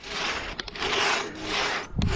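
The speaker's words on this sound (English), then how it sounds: "You could float your end up, and I can keep sawing here until we're even." Hand saw working through a big log on a wilderness trail, with long rasping strokes in a steady back-and-forth rhythm, loud and close, ending with a brief knock.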